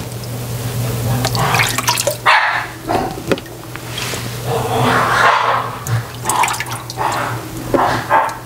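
Small dogs bark and tussle in play nearby, yapping in short uneven bursts amid scuffling, with a steady hum and watery dripping in the background; no one speaks.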